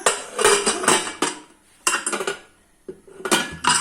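Metal pots and a pressure cooker lid clank and rattle in a home kitchen, in several bursts of clattering separated by short quiet pauses.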